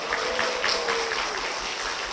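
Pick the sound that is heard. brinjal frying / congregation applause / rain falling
congregation applause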